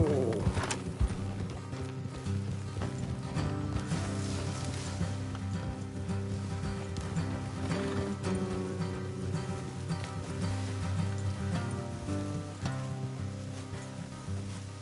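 Horses' hooves clip-clopping in Red Dead Redemption 2, a steady rhythmic plodding at moderate distance under ambient game sound with faint bird calls.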